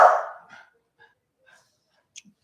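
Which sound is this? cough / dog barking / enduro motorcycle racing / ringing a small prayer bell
dog barking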